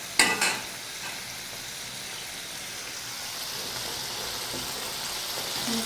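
Prawn curry sizzling and frying in a pan, a couple of sharp scraping stirs at the start followed by a steady, soft hiss of hot oil that continues on its own.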